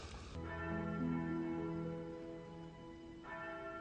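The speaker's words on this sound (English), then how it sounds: "they summon Zorro by ringing the bell 5 times" A church bell struck twice, each stroke leaving a long, resonant ringing tone that hangs in the air.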